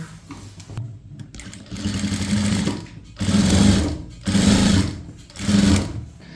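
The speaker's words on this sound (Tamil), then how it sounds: "இதை வந்து இப்படி மடித்து இதுக்கு மேலே ஒரு பதிச்சு தையல் போடுங்க." A sewing machine runs topstitching along a folded chudithar neck piece. It whirs in four short, loud bursts with brief pauses between them, close and clear.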